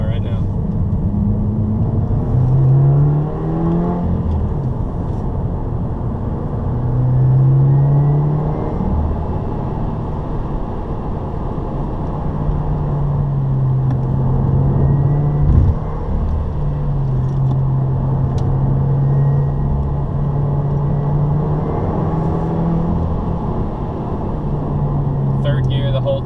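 A 2015 Subaru WRX is held in third gear at about 30 mph through a tight mountain switchback. Its engine drones steadily inside the cabin, rising and falling slightly, while the driver talks throughout.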